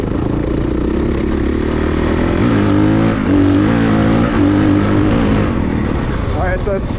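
A 2023 Honda CRF450RWE Works Edition race motorcycle engine revs loudly and close in third gear, rising and falling pitch over a constant mechanical clatter, with no talk.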